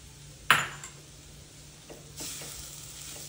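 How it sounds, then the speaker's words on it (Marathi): Coconut and jaggery modak filling is stirred in a pan, with a sharp utensil clink at the start, then soft scraping and a steady low sizzle throughout. "गूळ जोपर्यंत मेल्ट होत नाही तोपर्यंत हे सारण एकसारखं हलवून घ्यायचे."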